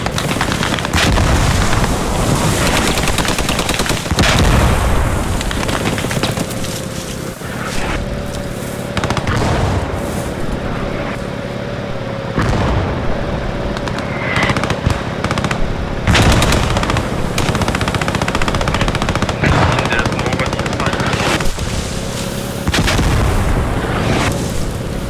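Enemy mortar and gunfire in the World War II shooter game Post Scriptum: repeated loud gunshots, bursts of automatic fire and heavy booming impacts crowd together in a continuous, chaotic barrage with no talk.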